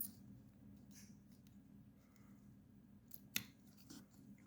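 Scissors snip through the ribbon of a jewelry bracelet: soft, quiet rustling and handling noises, then one crisp close cut near the end, with no talk.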